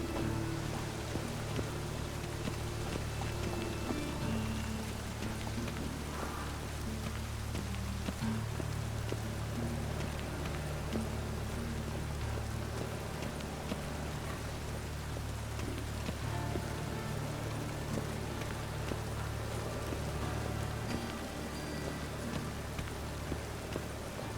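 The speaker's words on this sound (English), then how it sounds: "It just rains and rains." Steady rain falls continuously, a dense, even patter on surfaces with a low rumbling undertone, unbroken and without voices.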